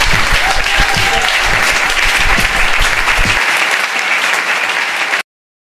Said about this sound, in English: What the hell is that cheering?